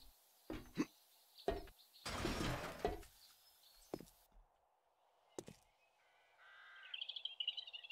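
A crow cawing in the video game 7 Days to Die, a few sharp separate caws with a burst of rough noise between them, then quieter game chirps toward the end.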